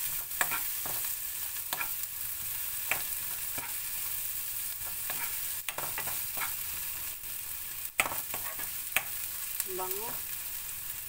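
Pork fat sizzles and spatters steadily in a pan while rice fries for a clam fried rice breakfast, with sharp pops and crackles scattered throughout and brief stirring scrapes.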